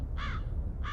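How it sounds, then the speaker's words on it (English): A raven perched on floating flotsam by a river in the video game Black Mirror 3 gives two harsh, close caws separated by a brief pause. "It's just a piece of flotsam with a raven sitting on it."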